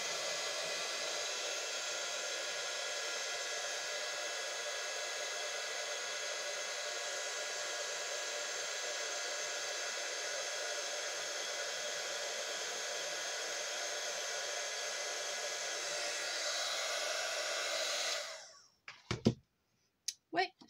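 Hair dryer blowing in a craft shop, a steady loud, even roar that runs without pause for most of the stretch, then cuts off abruptly, followed by a few brief clicks and handling knocks.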